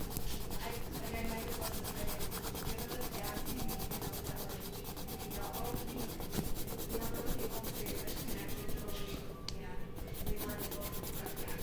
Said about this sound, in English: press harder with my pencil with the brown